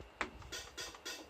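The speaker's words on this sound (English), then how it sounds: "This is called the closed hat." Closed hi-hat, two cymbals pressed together, struck four times in an even rhythm; short, bright, crisp ticks close up with no voices.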